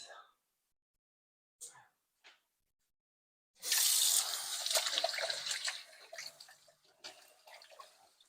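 Tap water runs into a sink while hands are washed in a kitchen, a steady hiss that starts abruptly after a few brief sounds and fades toward the end.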